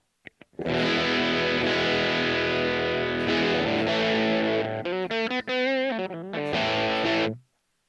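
An Ibanez PDS1 pedal colors an 80s pink Yamaha guitar with humbuckers, giving sustained distorted chords and a wobbling bend midway, loud and alone before cutting off.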